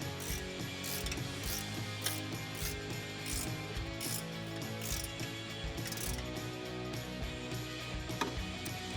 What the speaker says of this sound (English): I'm going to use a 13mm ratcheting wrench.